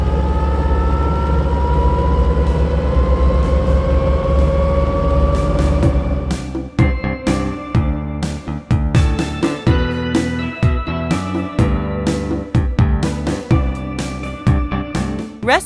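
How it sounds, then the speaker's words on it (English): A rescue truck's siren wails in rising tones over a heavy rumbling engine, then turns into loud, rapid, rhythmic pulsing as the vehicle passes close by. No one talks. "Rescue truck."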